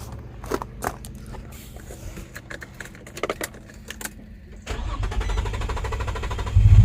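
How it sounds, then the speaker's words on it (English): A 2003 Infiniti G35 with a misfire, no power and an extended crank sounds off with clicks and rattles before the engine cranks and catches, ending in a loud, steady idle close by. "Let's go start the car up, see if we get a signal."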